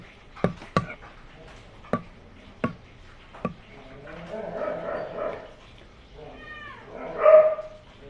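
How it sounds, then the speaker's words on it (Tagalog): Dogs bark several times in short, sharp bursts, somewhat distant, followed by a murmur of background noise and a brief, higher yelp or meow near the end. "Maraming aso."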